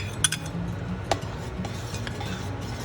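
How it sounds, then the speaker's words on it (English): A spoon stirs ghee into bisi bele bhat in a pot, giving a couple of sharp metallic clinks over a soft, steady scraping and mixing bed, quiet and close. "We'll just add the ghee to this and give it a nice mix."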